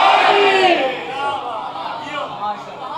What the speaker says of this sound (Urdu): جواب سارے دیں گے نعرے کا.